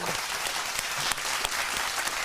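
Applause from a live audience, dense steady clapping filling the space evenly for a couple of seconds, with a few sharper claps standing out.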